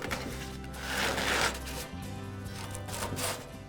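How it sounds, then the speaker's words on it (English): Sandpaper scrubs back and forth over chipping paint on a bent metal thrift-store piece, a close steady rasping with a few stronger strokes. "take some sandpaper and sand the areas where the paint is chipping off"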